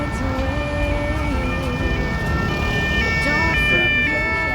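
A police car siren wails loudly through the streets of Paris, its tone rising and falling in steady cycles over the city's traffic noise.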